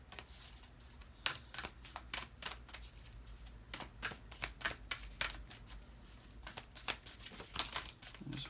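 Tarot cards being shuffled and drawn, a steady run of soft riffling clicks and crisp flicks at close range with no talking.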